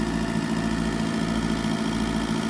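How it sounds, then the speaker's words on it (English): A generator on an RV runs to charge the batteries, giving a steady, close idling drone with a low rumble and even vibration and no other sound over it. "we're running the generator to make sure the batteries are charged up"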